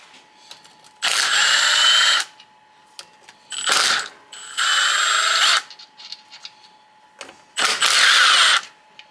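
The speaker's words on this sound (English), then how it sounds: "Now we can take all the bolts out." A power tool spins bolts out of a 2018 Beta X-Trainer motorcycle. It gives four separate loud whirring bursts of about a second each, separated by quiet gaps with a faint steady hum and small clicks.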